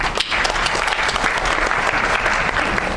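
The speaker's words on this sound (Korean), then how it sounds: "우리 이종관 교수님 큰 박수로 환영해 주시기 바랍니다" Audience applause welcoming a keynote speaker at the Hubcon 2013 conference, dense and steady clapping from a large crowd that fills the full three seconds at close, loud level.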